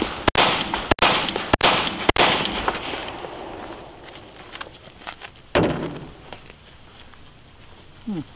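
Handgun rounds fired at a car's windshield pillar ring out as four loud, sharp cracks in quick succession, followed by a couple of further single shots and some lighter rattling in between.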